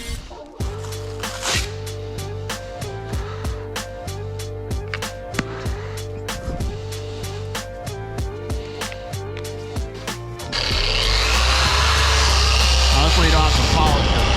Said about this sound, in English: switch pads and use Optimus primer polish with a softer polishing pad